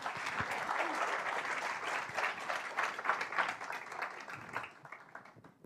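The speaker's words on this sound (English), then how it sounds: "Let's give him an applause, ladies and gentlemen." An audience at a conversation event with the ANC president gives sustained applause for the moderator, a dense wash of clapping that stays fairly even and then thins out toward the end.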